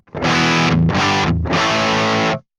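Heavily distorted electric guitar through a Mesa Boogie Mark IIC+ amp, both gain controls at 10, rings out in three loud, sustained chords, each held before cutting off, with a brief gap between them.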